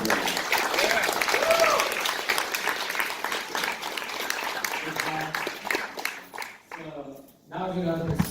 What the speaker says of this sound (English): make sure you give these guys a hand of applause